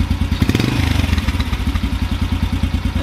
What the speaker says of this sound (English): The amount of time it takes for the RPMs to return back to idle is a little bit delayed.